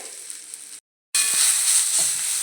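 A rice vegetable being sautéed with onion and garlic in oil, a close steady sizzle that stops briefly and then resumes louder.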